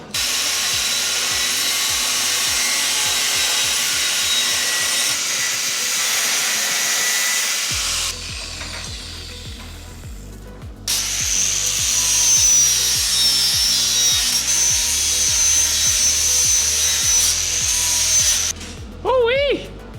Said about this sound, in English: get on your grinder and go and cut that for me